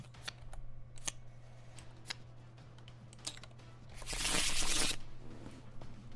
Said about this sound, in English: we'll shuffle one of our cards back into the deck